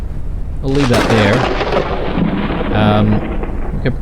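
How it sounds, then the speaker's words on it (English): A thunderstorm in the airship survival game Forever Skies: a loud, continuous roar of thunder and rain lasting the whole stretch, with tonal swells rising over it twice. "A storm is coming."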